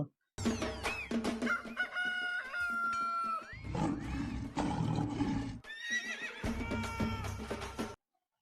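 A loud rooster crows among a run of other animal calls, including a horse whinnying, separated by short silences.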